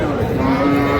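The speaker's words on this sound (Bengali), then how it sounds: "গাভী বাছুর।" A cow with her calf moos once, long, loud and close, at a busy village cattle market, with crowd noise around it.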